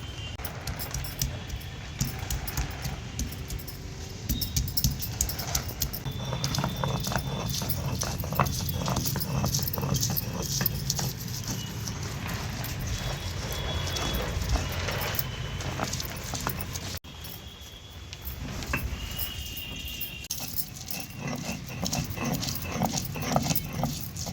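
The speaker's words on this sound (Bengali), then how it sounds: "এবার আদা রসুনটা বেটে নেব।" Ginger and garlic are ground into a paste for a Bengali katla fish and potato curry, producing continuous close, rhythmic scraping and knocking that briefly lets up partway through.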